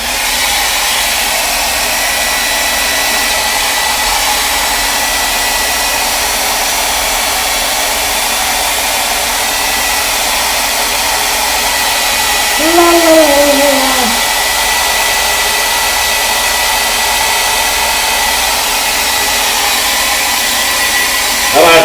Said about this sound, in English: Let me dry that real quick so I can put the ink highlights on it.